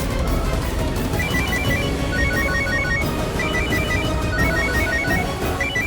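A phone rings out over and over in quick electronic pulses during an outgoing call, set against loud, dense dramatic background music.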